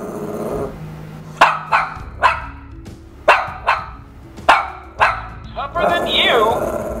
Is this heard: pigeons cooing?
no